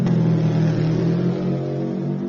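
A rally car accelerates hard through a forest rally stage, its engine revving loudly and continuously close by.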